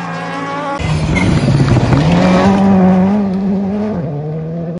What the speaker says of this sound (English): Racing car.